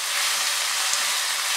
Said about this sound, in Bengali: আদা রসুনটা দিয়ে আবার এটাকে আমি 2 মিনিট ফ্রাই করে নেব মিডিয়াম আঁচে